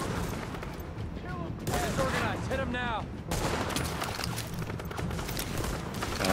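Rapid bursts of gunfire in the video game The Division, overlapping shots and automatic fire, with a voice talking faintly underneath.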